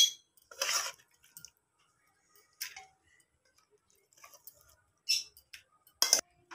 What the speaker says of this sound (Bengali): আমি কুকারের মধ্যে মাংস, আলু, পেঁপেগুলোকে সব দিয়ে দেব